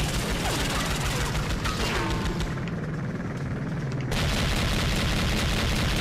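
Heavy gunfire from a big gun in the video game Night of the Jackal, a dense continuous barrage of shots and booms with a brief lull midway before the firing resumes loud and close.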